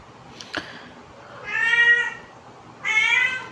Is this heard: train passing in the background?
no